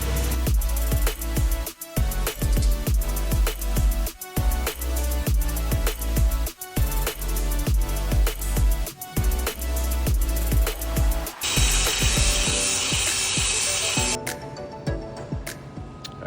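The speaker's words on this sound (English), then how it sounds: "I'm gonna grind this out." An angle grinder cuts out a damaged body section on a Land Rover Discovery 1, a loud, continuous harsh grinding whine with scraping bursts, right up close, then it winds down near the end.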